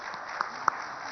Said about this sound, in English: Let's give him a warm round of applause for this.